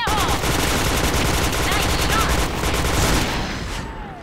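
Gunfire in the online shooter Point Blank: loud, rapid automatic bursts close by that run almost continuously, then taper off near the end.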